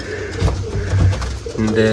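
Pigeons coo in a pigeon coop, low soft repeated calls close by, under someone speaking.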